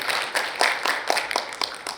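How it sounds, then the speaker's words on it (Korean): Audience applause welcoming a guest at a Korean building-services forum, a brief patter of scattered hand claps, moderately near and fairly light. "박수로 환영해 주십시오."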